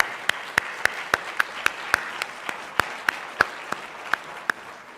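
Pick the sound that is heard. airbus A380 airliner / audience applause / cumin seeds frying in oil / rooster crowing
audience applause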